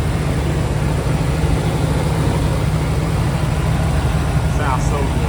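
A 1992 Buick Roadmaster's 5.7-liter V8 idles with a steady, even low rumble, close and constant throughout without breaks.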